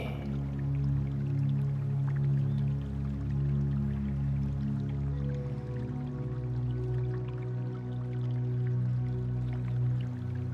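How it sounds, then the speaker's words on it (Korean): Gentle flowing water with soft drips, steady and moderately faint beneath a continuous low musical drone, no voices. "물소리를 들으며"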